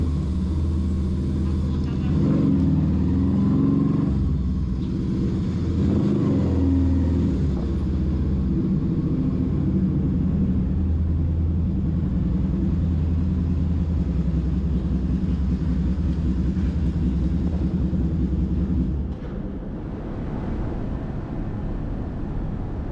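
Motorcycle on a solo touring trip to Flores, riding toward a ferry pier, with a steady loud engine rumble and road noise throughout that drops slightly near the end.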